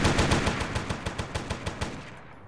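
A J.I. Defense Solutions addon gun in a video game fires a rapid automatic burst of evenly spaced, punchy shots, loud and close, then stops abruptly.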